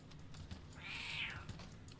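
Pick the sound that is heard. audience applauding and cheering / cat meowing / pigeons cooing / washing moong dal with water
cat meowing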